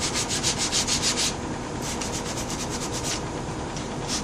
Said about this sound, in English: sand it smooth